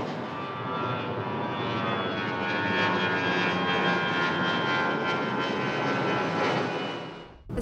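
A fixed-wing airplane passes overhead near the airport in Old Town Alexandria, a loud, sustained engine roar that fills the whole stretch before cutting off abruptly.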